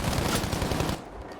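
FG42 fire in Battlefield V, a rapid, loud burst of automatic shots close by that cuts off after about a second, leaving a faint tail.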